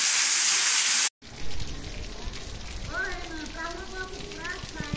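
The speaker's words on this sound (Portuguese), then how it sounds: "Muita chuva na cidade de Ipu nesse momento" Heavy rain pours over the town of Ipu in Brazil's Northeast, a dense steady hiss that fills the clip, briefly cut off near one second before resuming with people talking faintly beneath it.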